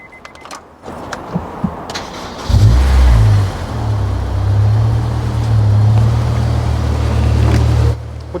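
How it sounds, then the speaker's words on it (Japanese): A Honda S2000 sports car engine, AP1 early model or AP2 late Type S with many aftermarket parts, starts up and settles into a loud, steady warm-up idle with a deep rumble, after a few clicks and a brief rev at the start. "ちょっとエンジン温めるね"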